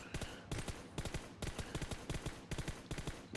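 Rapid automatic gunfire in PUBG Mobile, loud and close, fired in several sustained bursts separated by brief pauses, with no voices over it.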